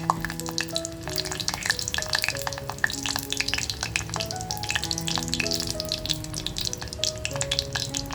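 Whole garam masala spices and bay leaf frying in a clay pot over a slow flame for a mutton masala, a steady close sizzle with scattered crackles and light stirring throughout, with background tones but no talk.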